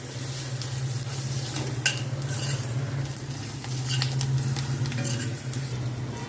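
Green chillies with turmeric and salt roast in a pan, giving a steady close sizzle with scraping and clinking from stirring throughout.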